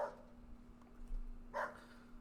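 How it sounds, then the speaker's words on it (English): A dog barks outside a window, two faint, distant yips separated by a pause, heard over a steady low electrical hum in a quiet room. "That sounds like a dog outside your window barking"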